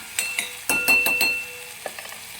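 An onion and tomato paste sautéing in oil, with a few sharp metal clinks and scrapes from a spoon against the pan over a soft background sizzle, close and short.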